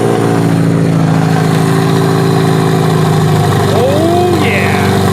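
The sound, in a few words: Lexus car engine running and idling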